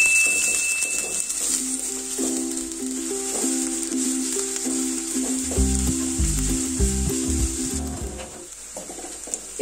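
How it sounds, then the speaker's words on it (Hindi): Roughly chopped onions fry in mustard oil in a pan, a steady bright sizzle near at hand with intermittent stirring scrapes and clatter building toward the end. "इसे अच्छे से हम फ्राई करेंगे।"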